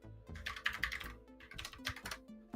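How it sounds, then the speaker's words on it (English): Rapid computer keyboard typing in steady bursts of clicky keystrokes, close and fairly quiet, running continuously with brief gaps and no voices. "Typing it out."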